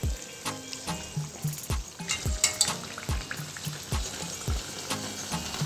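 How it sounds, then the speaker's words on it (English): Potato bhajiyas frying in hot oil, a steady crackling sizzle with repeated sharp clinks and taps of a utensil against the pan at close range, no talking. "Fry all the remaining potato bhajiyas similarly."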